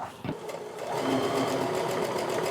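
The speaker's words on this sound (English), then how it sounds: "I just need to make sure that I'm sewing that 1/4 inch seam" A sewing machine stitches a quarter-inch seam on a half-square triangle quilt, running in a steady continuous whir at close range after a brief start, with no talk over it.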